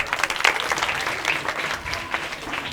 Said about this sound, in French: Veuillez applaudir les membres du jury.